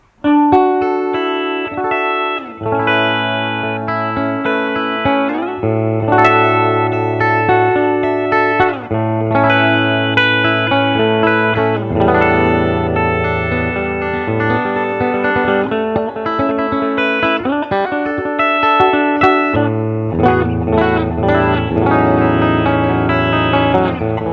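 A Fender Custom Shop '54 60th Anniversary Stratocaster electric guitar plays chords and notes with effects, long sustain and reverb, loud and clear throughout with no voices.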